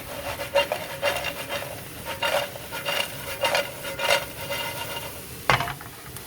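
Potatoes with spices being sautéed in a pan, turned with a utensil in a run of rhythmic scraping strokes over a soft sizzle, ending in one sharper scrape.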